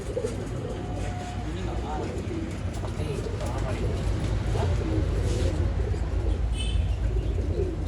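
Pigeons coo in low, rolling phrases at a pigeon seller's stall in Bangalore, the birds close and steady throughout, with a few chirps and brief wing flutters over a busy background.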